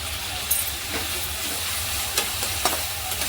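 Tomato, onion and ginger-garlic paste sauté in a pan for a mixed-sprout usal, giving a steady close sizzle and hiss with a few soft spatula scrapes and stirs, no voices.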